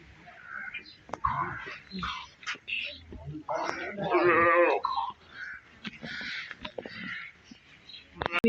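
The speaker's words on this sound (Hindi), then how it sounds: "बकरी है।" A goat bleats in a rural village, the wavering cries rising over nearby talk, scattered knocks and other background noise.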